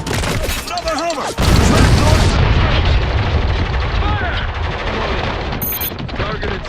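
Heavy gunfire and explosive bursts hammer a Humvee in the war shooter Spec Ops: The Line, loud and continuous after a brief pause, with radio chatter and shouted voices mixed into the barrage.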